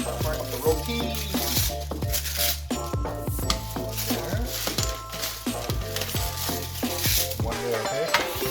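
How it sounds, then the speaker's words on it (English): Steady sizzling and crackling of rotis frying in two hot pans, with occasional light clinks and scraping of utensils throughout. "We're gonna start frying up the rotis."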